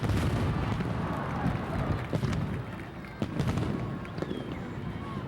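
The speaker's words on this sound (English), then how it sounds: "A lot of color in these fireworks" July 4th fireworks boom and crackle continuously, a dense rumbling barrage of distant explosions with sharper bangs popping out over a loud, steady roar.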